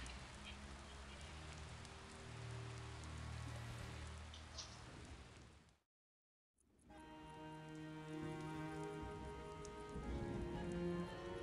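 Steady rain falls in The Witcher video game, a soft continuous hiss with low rumbling underneath that briefly cuts to silence partway through, then resumes.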